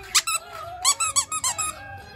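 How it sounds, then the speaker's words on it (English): Rubber squeaker toy squeezed repeatedly, about eight sharp, close squeaks in an uneven quick rhythm with no talking. "He pooped out a squeaker."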